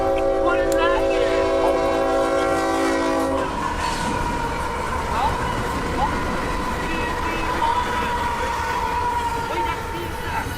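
A CSX freight train rolls downhill on a curving track, its horn sounding in sustained chords for the first few seconds before giving way to a steady, loud rumble and squealing wheels along the rails.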